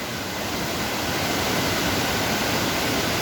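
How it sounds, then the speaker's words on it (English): Mae Ya Waterfall, a tall multi-tiered fall at Doi Inthanon in Thailand, roars as a loud, constant wash of rushing water that fills the whole scene. "So this is Mae Ya Waterfall, and it's absolutely spectacular."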